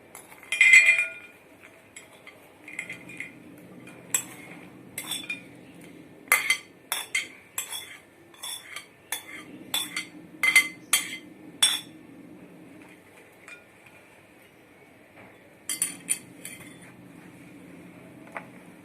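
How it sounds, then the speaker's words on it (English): Kurkure chaat is spooned onto a serving plate: a string of sharp metallic clinks and taps of a spoon against the dish come in bursts between quiet pauses, close up and without speech. "Now take out it in a serving plate"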